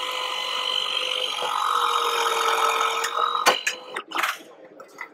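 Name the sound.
Milwaukee M18 strut shear cutting strut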